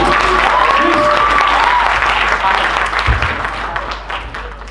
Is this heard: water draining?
no